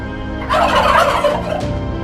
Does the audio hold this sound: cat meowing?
no